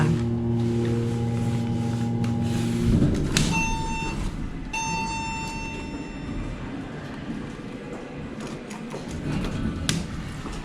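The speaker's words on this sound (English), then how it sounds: "Let's sample the chime." A 1991 Montgomery hydraulic elevator in a shopping mall sounds its chime: a sustained tonal hum, then two clear ringing tones a moment apart over a steady background of machinery and mall noise.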